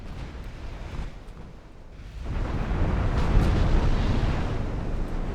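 Torpedo hits striking a warship in the naval battle game Ultimate Admiral Dreadnoughts, heard as a rumbling, roaring low blast that swells after a brief lull and sustains loudly over wind-like noise.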